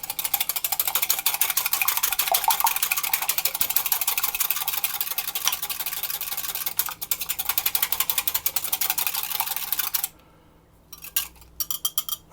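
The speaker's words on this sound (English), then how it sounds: "I'm going to whisk that together." A large egg being whisked together in a bowl for a bacon and egg pie, a fast, steady metallic rattling of whisk against the bowl for about ten seconds, then stopping, with a few brief final taps.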